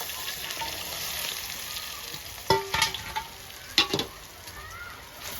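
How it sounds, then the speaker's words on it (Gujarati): Methi dhokla pieces tossed into a pan of sizzling tempering with mustard seeds, sesame seeds and green chillies give a steady oil crackle, with a few louder scraping stirs near the middle. "હવે એમાં નાખી દઈએ સરસ મજાના ઢોકળા."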